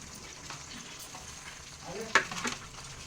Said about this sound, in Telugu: ఇప్పుడైతే గోంగూర వేస్తున్నాను